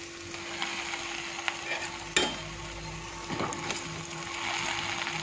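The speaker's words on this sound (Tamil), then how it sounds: "இது ஃபைனலாக ஆட் பண்ணுறதுக்காக இப்போ நான் வந்து இது ஃப்ரை பண்ணி வச்சுக்கிறேன்" Bread pieces fry in a pan as a garnish for vegetable biryani, a soft steady sizzle with a few scraping stirs and light utensil knocks close by.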